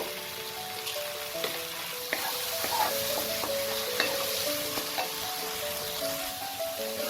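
Spice paste frying in oil in a pan for a raw jackfruit and chana dal gives a steady, close sizzle as sugar is stirred in, with light spoon scrapes and taps throughout.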